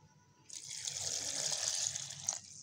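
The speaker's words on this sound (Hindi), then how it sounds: "इसके अंदर हम लोग 1 गिलास भर के जो है पानी ऐड कर देंगे" A glass of water is poured onto chopped carrots and beetroot with a pinch of salt, a steady splashing gush lasting about two seconds before stopping.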